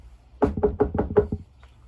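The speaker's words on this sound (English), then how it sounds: "he knocked on the door." Knuckles rap on a door five times in a quick, even run, close and solid, with a faint tap trailing after.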